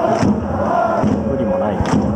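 A large football crowd at a J3 league stadium, Kataller Toyama against Nagano Parceiro, roars with sustained booing after a goal, a loud, dense, continuous wall of voices.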